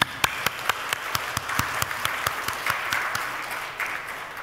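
A church congregation bursts into sustained applause during a worship service: dense, steady clapping with sharp individual claps standing out, close and loud, without speech.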